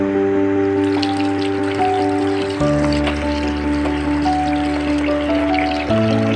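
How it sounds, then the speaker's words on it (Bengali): Water dripping and trickling while strained milk paneer in a cloth is rinsed, a steady patter over a sustained tonal hum that shifts pitch twice, with no talking. "জল দিয়ে পনিরটি ধুয়ে নেব"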